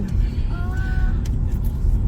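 A car rolls slowly through a residential neighborhood, easing down for a speed bump, with a steady low engine and road rumble throughout and a voice speaking briefly over it.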